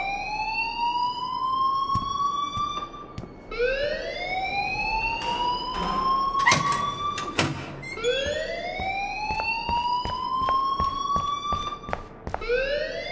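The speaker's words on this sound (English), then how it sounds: "please turn off that alarm since that's your" Alarm sounding in the video game Life Is Strange: a loud, continuous siren-like wail rising and falling in repeated sweeps, with scattered clicks and knocks behind it and no speech.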